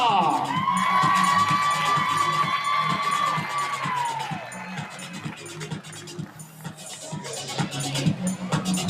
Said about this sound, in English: Keep your applause going for Andrews, Texas.